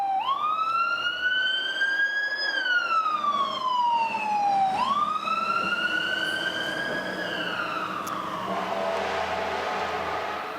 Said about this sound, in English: That fire engine was from station 44, which is just up on the hill to the southwest of me